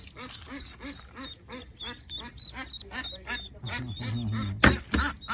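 Repeated quacks of a mother duck sound close by, mixed with the soft chirping of ducklings and a sharp burst near the end.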